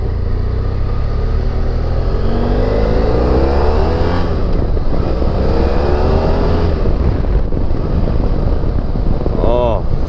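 A BMW F 800 GS motorcycle being ridden gives a loud, constant engine drone mixed with heavy wind rush, the pitch shifting as it accelerates, with a voice faintly audible beneath.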